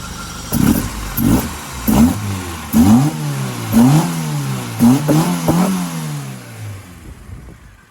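A Ford Escort Mk2 with a 2.0-litre Pinto engine on twin 45 carburettors revs repeatedly, about eight sharp throttle blips rising and falling in pitch. The engine is loud and close, with no talk, and it settles toward idle at the end.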